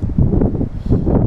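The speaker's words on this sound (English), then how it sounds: "It's really windy today" Steady wind buffeting the microphone at a fishing lake, a continuous low rumbling roar with gusty swells and no clear talk.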